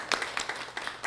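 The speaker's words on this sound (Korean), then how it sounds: "박수로서 이렇게 힘을 주셨으면 좋겠습니다" Church congregation applauding during a Sunday worship service, a short burst of scattered, uneven hand claps.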